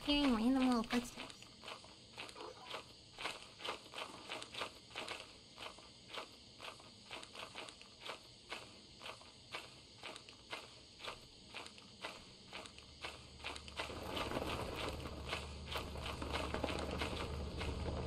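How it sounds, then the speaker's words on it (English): Small, quick footsteps patter steadily inside the video game Lethal Company, a long run of light, evenly spaced steps, followed by a louder rushing ambience near the end. "I keep hearing random little footsteps."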